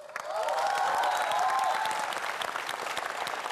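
Studio audience applauding steadily on a Vietnamese TV variety show, a dense, continuous wash of clapping with a few cheers rising early, sustained at even loudness throughout.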